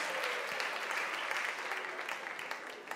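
A festival audience applauds an artist during an evening of a competition show, continuous moderately loud clapping that gradually eases slightly toward the end.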